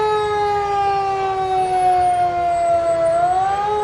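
A retired vintage city fire engine, number 2, wails its siren in a Wild West festival parade. The tone is loud, close and continuous, a sustained steady pitch that dips slightly and rises again near the end, with no talk.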